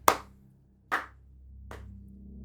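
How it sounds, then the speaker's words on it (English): Three slow, deliberate hand claps ring out alone in a stone chamber, evenly spaced with short echoing tails. "And you just hear just a slow clap"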